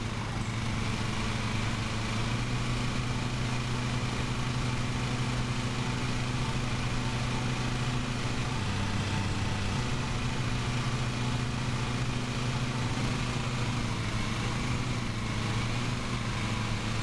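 Lawn mower engine in the Lawn Mowing Simulator game, a steady, loud, continuous drone with a low hum that runs unbroken the whole time, with no voices.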